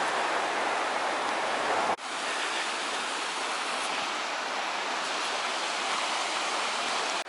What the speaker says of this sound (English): if you like the sound of running water